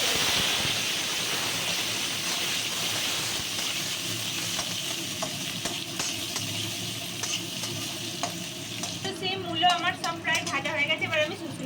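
Vegetables fry in hot oil with chilli and five-spice, giving a steady, loud sizzle with stirring scrapes throughout and a voice talking over it near the end.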